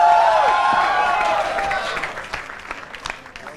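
Applause from a comedy show audience, loud crowd clapping that starts under a voice and gradually thins out into scattered claps.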